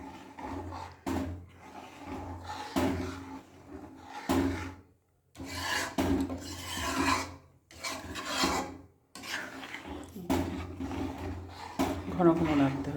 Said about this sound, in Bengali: এই যে আস্তে আস্তে জাল দিতে হবে আর এরকম নাড়া দিতে হবে বারবার।